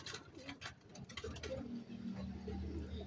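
Young pigeon squabs being raised for giving away, soft low cooing and faint rustling and pattering close by, fairly quiet with no clear talk.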